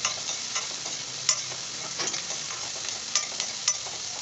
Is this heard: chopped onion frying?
yes